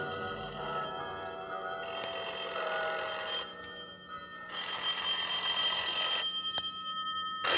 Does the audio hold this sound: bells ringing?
yes